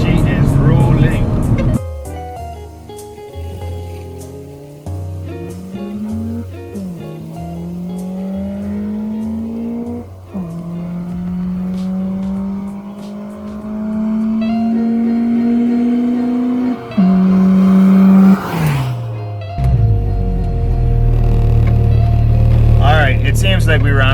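A car with a stock Toyota 4AGE engine on a drag run, revving up loudly through the gears. Its pitch climbs steadily and drops at each of several distinct shifts.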